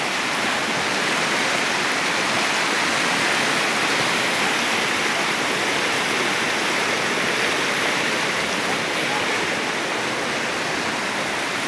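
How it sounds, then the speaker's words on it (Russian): The rushing Kuyum river in Altai, heard from a footbridge, roars as a loud, steady broadband wash of churning water that never lets up, with no voices over it. "Слушаем шум реки."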